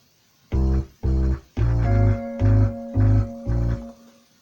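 Short electronic pattern of synth drum and bass hits from a Maschine Studio, six evenly spaced pulses with a sustained tone entering partway through.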